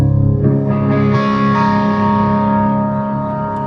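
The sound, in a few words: Chapman electric guitar with alder body and bolt-on neck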